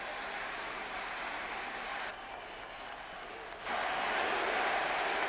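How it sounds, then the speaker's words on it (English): Crowd in a boxing arena roaring at the end of a heavyweight title bout, a continuous wash of cheering that dips midway and then surges louder. "The entire crowd up on its feet."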